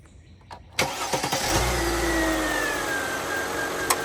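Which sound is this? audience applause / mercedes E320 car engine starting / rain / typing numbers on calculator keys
mercedes E320 car engine starting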